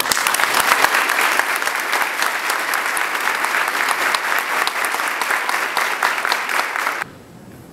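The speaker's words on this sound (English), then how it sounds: "Ladies and gentlemen, please join me in thanking them with a round of applause." Loud, sustained applause from an audience at a Marines family event honoring standing veterans, many hands clapping close and dense for about seven seconds before cutting off abruptly to near quiet.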